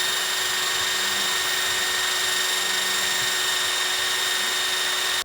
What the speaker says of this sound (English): drill a hole there.